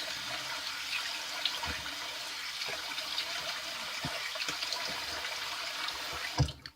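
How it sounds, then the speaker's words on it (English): Cold water streams steadily from a tap into a sink for a post-shave rinse, a close, continuous splashing hiss with a few small knocks and clatters. "Okay, now my cold water rinse."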